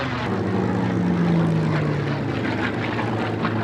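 A propeller aircraft with an Allison engine flies a display at a 1998 British airshow, making a loud, continuous droning roar whose pitch slowly sinks as it passes, with no talking.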